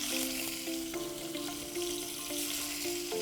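Rohu fish pieces frying in hot oil, a steady crackling sizzle close by with faint utensil taps and a low ringing tone underneath, no speech.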